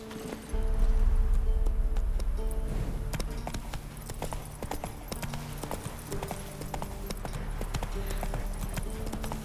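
Roach, a horse in The Witcher 3, gallops with steady rhythmic hoof clip-clops over a game music bed, loud and close throughout after a brief quiet opening.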